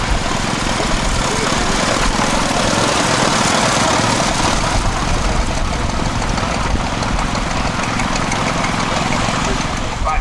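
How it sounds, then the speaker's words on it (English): Vintage tractors, headed by a Ford, run at a steam and vintage rally in Sheffield, with a loud, continuous low engine drone close by and no clear voices. "Wonderful display of tractors. They're headed up by the Ford."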